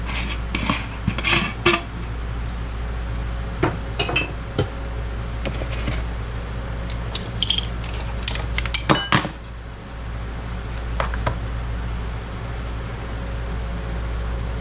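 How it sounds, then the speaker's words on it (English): Catfish being mixed with spices in a bowl, heard as close, repeated clinks and scrapes of a utensil against the dish over a steady background hum, busiest in the first half. "And then you want to mix them up really nicely, because we want the spices evenly distributed around the fish."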